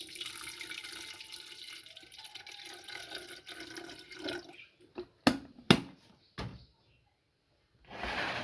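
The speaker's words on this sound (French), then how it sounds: "Nous allons mettre de l'eau à l'intérieur pour tester." Water runs and splashes into an electric water heater being filled for a test, a steady flowing wash for several seconds followed by a few sharp knocks and clatters, then a brief return of rushing water at the end.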